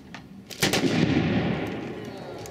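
A fast draw competition revolver shot on an outdoor range at Red River, New Mexico, one sharp loud crack that rolls off into a lingering echo.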